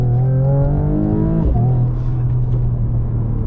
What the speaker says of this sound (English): launch control is activated, and then you just go away